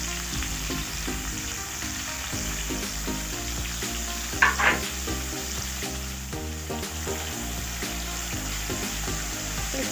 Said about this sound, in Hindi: प्याज को जो है मुझे लाल नहीं करनी, सिर्फ नरम करनी है प्याज को